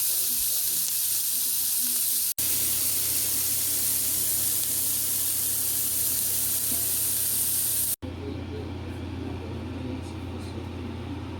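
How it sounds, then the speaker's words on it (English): Cubes of steak sear in olive oil in a hot cast iron skillet, a loud continuous sizzle with a steady hiss. The sizzle breaks off twice and then resumes, somewhat quieter and more crackly. "Let's go to searing these little mini pieces of steak."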